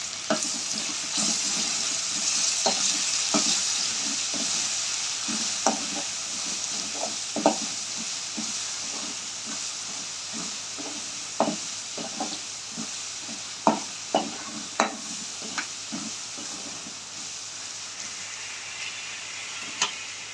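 Curry leaves crackle and sizzle in hot oil in a pan for a prawn fry, with a continuous hiss broken by irregular spoon taps and stirring clatter.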